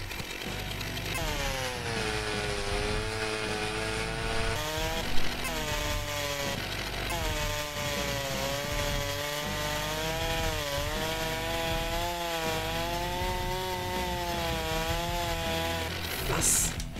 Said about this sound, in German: Ich säge jetzt hier mal hier.